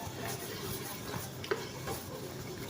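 A spoon quietly stirs arbi (taro) frying in a pan over a medium flame, giving faint, steady scraping over a low sizzle with one small clink.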